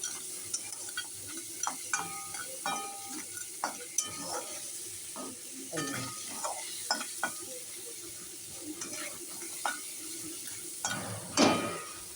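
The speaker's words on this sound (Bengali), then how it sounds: "কাঁকড়া ভাজা হয়ে গেছে" Crab sizzles steadily as it fries in a pan while a spatula scrapes and clinks at irregular intervals, with a few louder knocks near the end.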